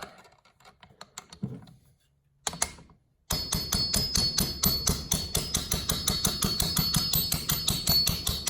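Light hammer taps driving a piston off a Polaris 754 big bore snowmobile engine during top end removal: a few scattered taps at first, then a fast, steady run of close metallic strikes.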